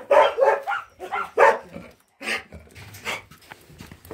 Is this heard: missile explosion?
no